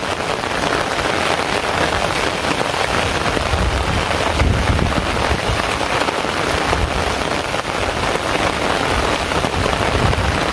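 Heavy rain pours down on a village during a rainy-season storm, heard from under an umbrella as a dense, loud, unbroken roar of drops hitting surfaces, with no talking.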